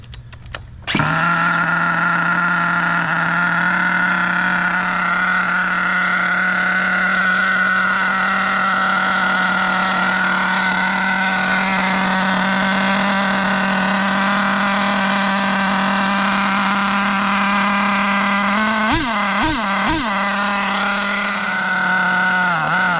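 Air-cooled nitro big block engine of an HPI Savage XL 5.9 RC monster truck starting on its first run, then holding a loud steady high-pitched idle whine with a few quick throttle blips near the end.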